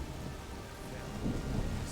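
Steady rain with a low rumble of thunder in the video game A Plague Tale: Requiem, a continuous, fairly soft wash of drops across a short stretch.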